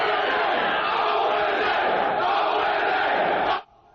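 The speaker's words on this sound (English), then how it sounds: "you got him to chant, and you got the cheap applause break" A large crowd roars and chants in unison at a radio show's live event in Cleveland, a loud sustained wall of voices that cuts off abruptly near the end.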